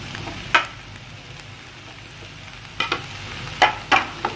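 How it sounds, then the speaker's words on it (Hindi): Green chili, tomato, onion and capsicum fry together for pizza cutlets, giving a steady close sizzle with a few sharp spatula scrapes and clacks against the pan, mostly in the second half. "इनको भी हमने फ्राई करना सब्जियों को, ताकि जो इनमें नमी होती है वो खुश्क हो जाए"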